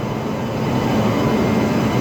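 The Amaravati Express, hauled by a WAP-7 electric locomotive, rolls slowly into platform 5 at Vijayawada station with a loud, continuous low rumble and steady rolling noise, close by.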